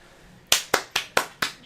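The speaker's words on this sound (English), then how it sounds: "Japanese crowd clapping" A Japanese crowd at the JCG 2013 esports finals claps in unison: five crisp, evenly spaced claps in a steady quick rhythm, fairly close and with no talking.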